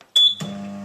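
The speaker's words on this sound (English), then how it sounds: "Pop it in the microwave and press the start button." A microwave oven at full power heating intercalated graphite gives a bright start beep, then settles into a steady, close electrical hum with no talking.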